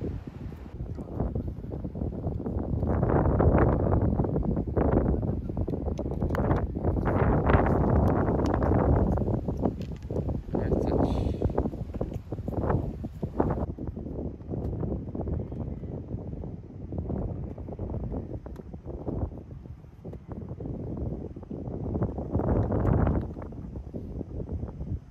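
Gusty wind buffets the microphone on an open golf course at Sky72's Classic Course, a steady broadband roar that swells and eases in waves throughout with no talking.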